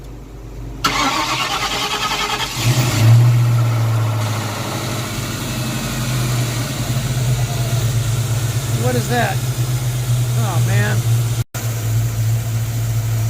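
A 1994 convertible's engine starts and settles into a steady idle with a low, constant hum, close by, while someone talks briefly over it.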